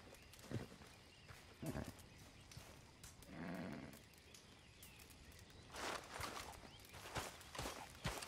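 Scattered hoof clops from a horse in Red Dead Redemption 2, fairly faint and irregular, with a brief stretch of voice in the middle.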